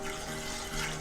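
Water runs steadily into a pan on the stove for a sugar, water and soy sauce brine for pickled chayote, a constant close splashing flow with no talk.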